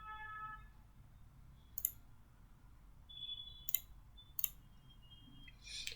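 A few sharp computer mouse clicks sound alone and close, spaced irregularly over a quiet, faint background hum.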